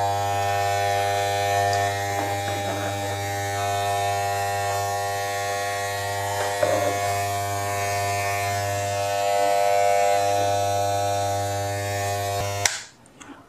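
A Wahl electric hair trimmer buzzes steadily with a loud, even motor hum for several seconds, then cuts off abruptly near the end.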